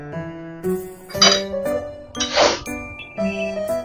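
A metal spoon clinks and rings against a pot while stirring Katla fish curry with vegetables, producing scattered bright tinkling hits with sustained ringing tones and a soft scrape.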